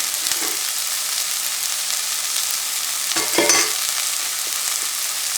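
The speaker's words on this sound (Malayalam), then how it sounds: "ഒന്ന് ലൈറ്റ് ബ്രൗൺ ആവുന്ന വരെ സോട്ട് ചെയ്യുക." Onions sautéing in a pan until light brown, a close, steady hiss of frying with a brief burst of spatula stirring near the end, no voices.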